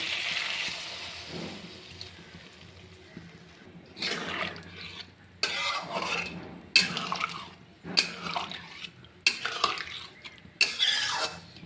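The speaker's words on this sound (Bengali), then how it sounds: "এবার এর মধ্যে আমি দিয়ে দিব দুধ।" Milk poured into fried, spiced vegetables for Bengali doodh shukto, heard as soft liquid splashing and dripping that builds into several distinct bursts of pouring over a quiet kitchen background.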